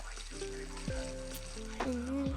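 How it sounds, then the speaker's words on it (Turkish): Food sizzles and crackles steadily in a hot pan, with a faint hum and occasional tonal squeals in the background. "Bu tavada kızartılır valla."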